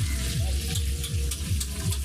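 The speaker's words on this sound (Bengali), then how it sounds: "ইলিশ মাছ ভাজা।" Hilsa fish fry in a pan in a busy outdoor cooking area on a picnic boat, a loud continuous sizzle over a steady rhythmic low engine-like throb, with no talk.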